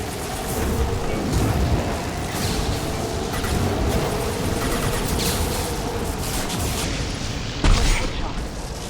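Chaotic Mass Effect 2 firefight with a flashbang grenade going off amid steady gunfire and booms, dense and loud throughout, a sharper blast near the end, with voices talking under the noise.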